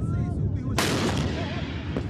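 NTC fighters in Sirte fire celebratory shots into the air after a day of battle. A single loud, sharp gunshot cracks over outdoor crowd noise and voices, followed by a fainter report.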